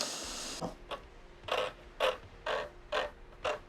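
Tuning pegs on a guitar being wound tight during a rebuild, a run of short creaking mechanical turns repeating at a steady, roughly half-second rhythm, close and fairly quiet.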